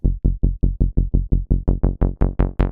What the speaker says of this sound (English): just a simple saw bass.